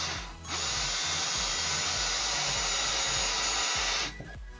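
Power drill whirs steadily for about four seconds as it bores through a small workpiece for a tripod phone holder, with a close, continuous high whine starting and stopping abruptly.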